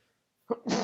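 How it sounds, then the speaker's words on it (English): A single person sneezes once after a moment of silence: a short inhale-like burst followed by a sharp, breathy explosive release, close and clear. "Excuse me, sneezing."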